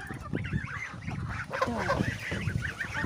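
Geese on a poultry farm honk repeatedly at close range in a noisy, overlapping chorus around their feeders, with a brief spoken word near the start.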